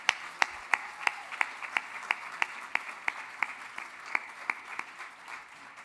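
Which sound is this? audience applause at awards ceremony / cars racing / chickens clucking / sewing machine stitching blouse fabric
audience applause at awards ceremony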